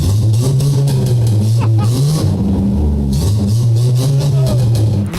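A car exhaust revs loudly and continuously up close, the deep engine drone rising and falling in pitch through several throttle blips.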